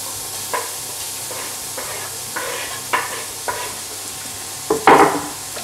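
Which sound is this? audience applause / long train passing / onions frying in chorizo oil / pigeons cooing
onions frying in chorizo oil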